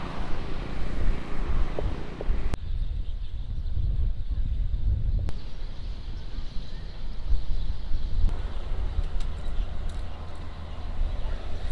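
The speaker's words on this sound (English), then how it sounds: "I don't know if you can hear me because it's very windy." Strong wind buffets a microphone on the Greek island of Naxos with a steady low rumble and roar, continuous throughout with no voice clearly standing out.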